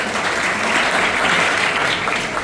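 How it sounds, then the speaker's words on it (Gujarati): Sustained audience applause at a devotional gathering, dense steady clapping from many hands filling the whole stretch at an even, fairly loud level. "ફરીથી તાળી પાડીને આપણે એમને વધાવીએ."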